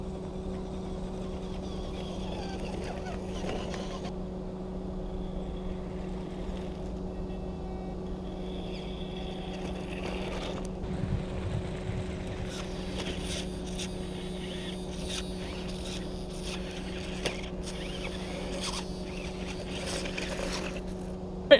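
A WLtoys Crawler King 18628 six-wheel RC crawler drives off-road with a steady electric motor whine and drivetrain hum, a constant tone running throughout with small bumps and clatter from the wheels.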